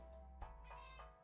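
A pet cat meows a few times, short and fairly near, over a quiet steady hum in the room, with no talking.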